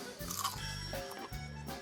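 Small fried sea fish (tsatsa) bitten and chewed, giving a few crisp crunches close up while a person hums with a low, steady voice throughout.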